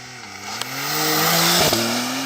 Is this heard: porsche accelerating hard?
yes